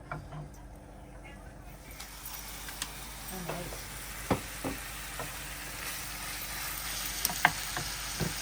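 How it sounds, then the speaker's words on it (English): Ground meat for shepherd's pie, seasoned with salt and pepper, browns in a pan with a steady low sizzle and occasional spatula scrapes and clicks, while a person talks over it. "We're going to cook this and brown until the meat is brown."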